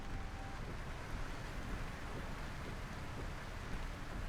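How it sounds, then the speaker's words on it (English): Steady rain in Euro Truck Simulator 2, a dense, even hiss of drops falling on the truck with a low rumble beneath, constant and unbroken throughout. "Rain."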